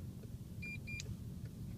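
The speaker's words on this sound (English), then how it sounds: "double quick beeps indicating that the system is activated" Dashboard chime of a VW Caddy van giving a quick double beep as cruise control activates, two short tones in quick succession over a steady low cabin and engine rumble.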